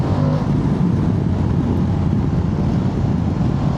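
An Aprilia Tuareg 660 motorcycle engine roars steadily at high revs, a loud, continuous airbox intake rumble with no talking.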